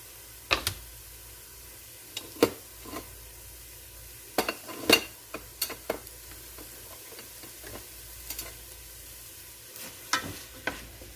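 Beef salami stir-fries with seasoning in a pan, a faint continuous sizzle broken by sharp, scattered clicks and scrapes of a utensil stirring at irregular intervals.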